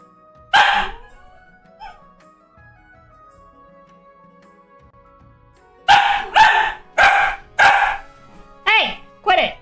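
A dog barks from inside a kennel: one sharp bark, then a pause, then a quick run of five or six loud, close barks, each cut off short.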